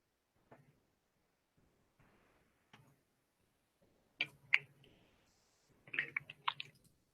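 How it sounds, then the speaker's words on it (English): Scattered computer mouse clicks on a web page, soft separate taps at first, then a few quick louder clicks in small bursts near the end, in an otherwise silent room. "Let me click at the page from the beginning again."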